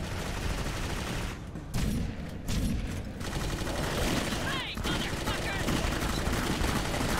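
Sustained rapid gunfire from a weapon in Clive Barker's Jericho, a loud, dense stream of shots that barely pauses, with short gaps early on and game noise layered throughout.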